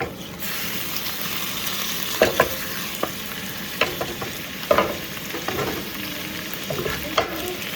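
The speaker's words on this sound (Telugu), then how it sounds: "ఆయిల్లో జస్ట్ ఆనియన్స్ ఫ్రై అవుతున్నాయి" Chicken pieces and onions fry in hot oil in a steady close sizzle, broken by sharp clicks and scrapes of a spoon stirring against the pan.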